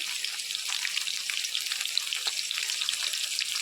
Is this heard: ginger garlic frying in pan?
yes